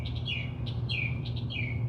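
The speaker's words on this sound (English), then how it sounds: "we are restored by even the birds chirping" Small birds chirp in short repeated tweets over a steady low background hum, fairly close and clear throughout.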